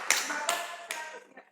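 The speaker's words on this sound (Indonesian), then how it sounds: "Tepuk tangan buat tim Rosvi." A few separate claps or taps ring out near and fairly quiet, spaced roughly every 0.4 seconds, in a lively live-stream setting.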